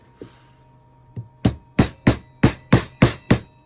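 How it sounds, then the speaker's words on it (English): A PVC pipe cap set over a ring mandrel is tapped to drive a ring down it: a couple of light knocks, then a run of about seven sharp, evenly spaced hollow taps, close and fairly loud, no talking. "I'm going to tap on the top of the cap"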